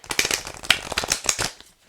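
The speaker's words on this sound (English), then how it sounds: "That was me shuffling my deck." A Rumi card deck is riffle-shuffled up close, a rapid burst of crisp flicking and slapping card clicks lasting about a second and a half, then stopping.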